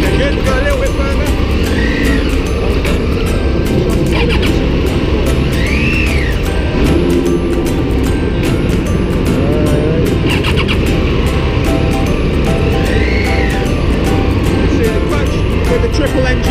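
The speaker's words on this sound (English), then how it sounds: "With the triple engines, 94 horsepower, the engine computer, when you shut the throttle, the revs die quite quickly" A Triumph Tiger 800 XCa with a 94-horsepower triple engine runs on the move, a loud continuous engine drone with rising and falling revs throughout under wind noise.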